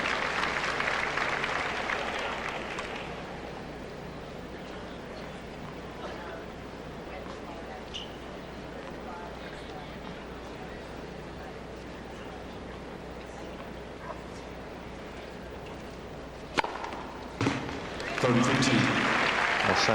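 Crowd applause at the 2000 US Open semifinal between Sampras and Hewitt, a broad ovation that fades out over the first few seconds. Commentators talk over the quiet stretch that follows, and a fresh burst of clapping swells near the end.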